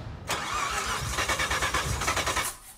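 A Mazda RX-7 FD rotary engine cranking but failing to start in the racing game Forza Horizon 5, a loud, close starter whirring in rapid rhythmic pulses for over two seconds before stopping.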